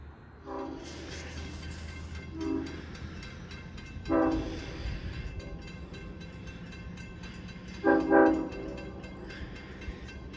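A Long Island Rail Road passenger train from Jamaica to Port Jefferson rumbles steadily along with three distinct horn blasts, the last one loudest, no voices present.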